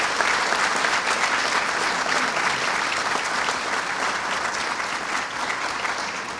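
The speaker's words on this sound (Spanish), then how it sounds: "Saludamos con un fuerte aplauso esta importante resolución." Sustained applause from an audience at a Peruvian bar association ceremony honoring a lawyer with a decoration, a dense steady wash of many hands clapping throughout without a break.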